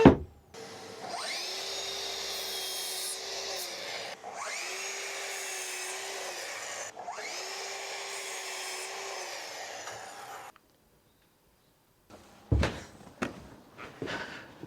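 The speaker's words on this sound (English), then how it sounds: "get them all cut using the nice Freud 48 tooth blade that's still in the miter saw" A miter saw fitted with a Freud 48-tooth blade crosscuts boards for a garden screen three times in a row, each cut a rising motor whine and a rough bite into wood. Silence follows, then a few sharp knocks.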